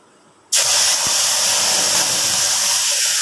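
Spice paste dropped into hot oil erupts into a loud, sudden sizzle that holds steady and close, a broad hissing fry with no voices over it.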